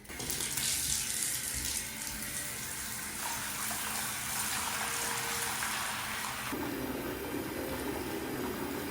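A bathtub fills with running water from the tap, a steady broadband gush that continues throughout and shifts in tone partway as the flow or level changes, close and alone with no talking.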